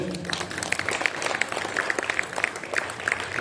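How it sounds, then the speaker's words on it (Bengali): Students clapping loudly at a school wall magazine inauguration, a dense steady patter of many hands running throughout, with some faint talk underneath. "জোরে হাততালি দেবে।"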